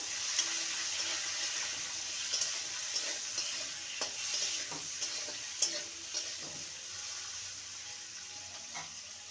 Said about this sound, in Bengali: আলুটাকেও ভালো করে ভেজে নেব